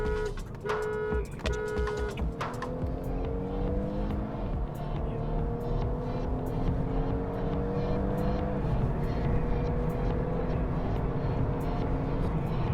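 A car accelerates hard while overtaking a Volvo S90, its engine a steady loud drone with rising harmonic sweeps as revs climb and shift, heard from inside over constant road roar.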